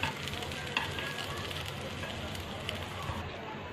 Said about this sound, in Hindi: दूसरी साइड से भी इसी तरह इन्हें सेक लेंगे,